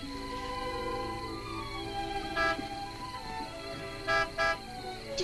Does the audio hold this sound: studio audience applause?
no